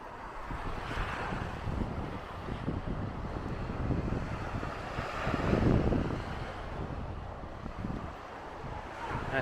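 Wind gusts buffet the microphone over steady surf on the Norfolk coast near Hopton-on-Sea, a continuous windy roar with washing waves and no speech.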